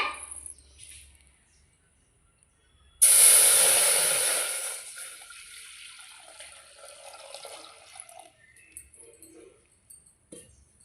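A sudden rush of milk pouring into a pot, loud at first then tapering into softer trickles and faint splashes, with quiet clinks afterward.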